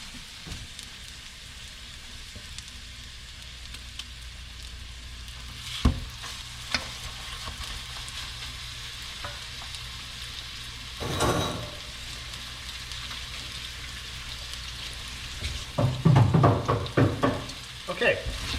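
Chicken patties fry in a generous amount of oil in a pan, giving a steady close sizzle throughout, broken by a few clattering handling noises and louder spattering bursts toward the end.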